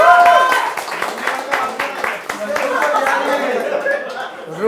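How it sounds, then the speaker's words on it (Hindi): Audience members at a comedy show clap in a burst that gradually thins out, with chuckles and a voice talking through the applause. "जोरदार तालियां।"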